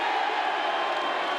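Wrestling crowd at a tag team championship match, a broad, steady roar of cheers mixed with other reactions, filling the whole moment at a fairly loud, even level with no clear single voices.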